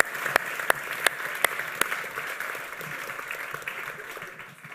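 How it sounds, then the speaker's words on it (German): A church congregation at a youth closing service applauds the young moderators with steady, dense clapping throughout, a few sharper nearby claps standing out early, with faint voices underneath. "Geben wir ihnen doch nochmal einen herzlichen Applaus"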